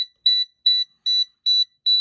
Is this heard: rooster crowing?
no